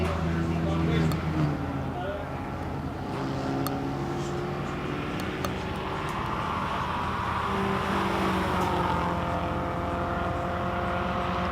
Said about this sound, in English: Honda Civic Type R going up the hill right now